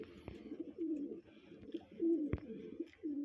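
Pigeons coo softly in repeated low, throaty rolling calls, close by, with a couple of sharp knocks between phrases.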